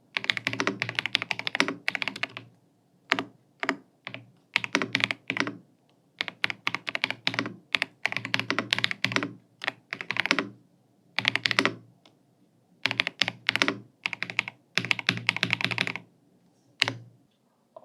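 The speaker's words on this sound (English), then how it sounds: "I'm gonna give you a typing test on how it feels" Rapid typing on a Tecware Spectre 96 mechanical keyboard, with dense clacking bursts of keystrokes broken by short pauses, close and clear, with no voices.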